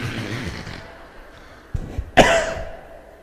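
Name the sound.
lecturer coughing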